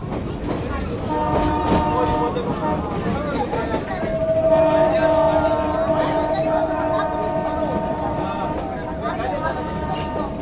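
A metre gauge train at Goram Ghat railway station rumbles and clatters nearby on the Mavli–Marwar line, a long horn note sounding partway through, with voices in the background.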